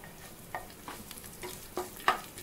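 Quiet sizzling of curry leaves frying in hot oil with green chillies, with scattered crackles and pops as a spoon stirs through the pan.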